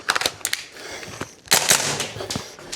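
A VFC G36C V2 gas blowback airsoft rifle fires a few sharp, close cracks, some in quick pairs, with the clack of the recoiling bolt after each shot and a louder burst partway through.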